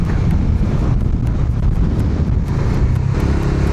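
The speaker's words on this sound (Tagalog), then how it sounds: "Ang lakas ng hangin dito." Loud, constant wind buffeting a microphone over the low rumble of a moving Dominar 400 motorcycle on a road toward Siniloan, Laguna, dense and unbroken throughout.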